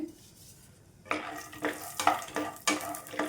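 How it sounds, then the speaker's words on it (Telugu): Peanuts frying in oil in a pan while being stirred, with quiet at first and then a run of scraping, clattering stirs over a soft sizzle, close and moderately loud, no talking. "పల్లీలను వేసుకొని మంచిగా వేయించుకోవాలి"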